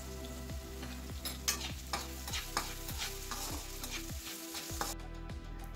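Potatoes frying in a pan for bitter gourd fry, a continuous close sizzle broken by rhythmic stirring strokes about every half second.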